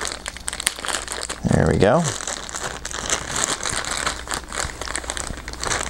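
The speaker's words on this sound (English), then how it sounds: "Get that tape off there." Packing tape being peeled and crinkled off the box of a Zoom H1 Handy Recorder V2.0, a short rasping pull near the mic with rustling after it, while someone talks briefly.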